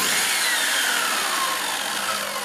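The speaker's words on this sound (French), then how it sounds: "Une scie à onglet radiale, là on est sur une puissance de 2000 watts." A radial miter saw runs off a Jackery Explorer 1500 Pro portable power station, giving a loud, steady high-pitched whine that slowly winds down in pitch, heard alone at close range.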